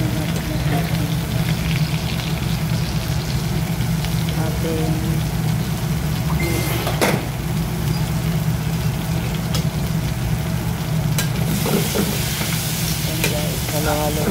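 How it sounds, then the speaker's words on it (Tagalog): Pork chop and mixed vegetables with sauce sizzle steadily in a hot pan while being stirred, a constant loud frying hiss with occasional scraping stirs throughout. "halo-halo lang natin ang ating gulay para mag-isa siya"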